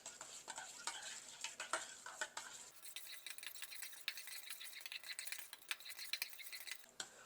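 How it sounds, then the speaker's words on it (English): Cayenne pepper being stirred into Alabama white sauce in a bowl, a quick series of close, light clinks and scrapes from a utensil, steady and rhythmic with no talking. "We're just going to mix it in really well."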